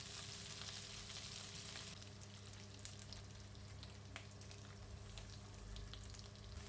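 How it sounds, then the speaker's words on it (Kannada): A paste of ground mint and green chilies with turmeric and salt fries quietly in oil, a soft, continuous sizzle with faint stirring ticks, fairly low in level. "ಈ ಪೇಸ್ಟನ್ನು ಚೆನ್ನಾಗಿ ಫ್ರೈ ಮಾಡಿ"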